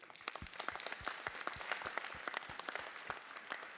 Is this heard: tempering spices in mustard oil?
no